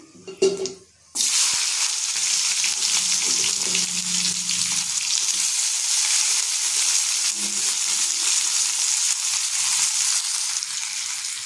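Onions drop into hot oil with panch phoron and mustard, in oil left from frying eel fish. A brief clatter comes first, then a loud, crackling sizzle surges in and holds steadily, close and continuous.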